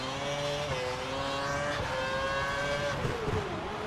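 Formula One race car engine in the racing game F1 2012, a loud, steady high-pitched whine that shifts pitch through gear changes, close and continuous with no talking.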